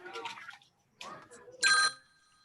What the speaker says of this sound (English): Well, I guess I better silence my phone